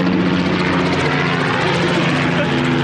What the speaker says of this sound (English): Lots of helicopter tours here.